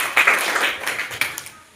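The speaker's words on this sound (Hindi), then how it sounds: "सबके लिए ताली।" A classroom of students applauds together: a short, dense burst of overlapping hand claps that fades out within about two seconds.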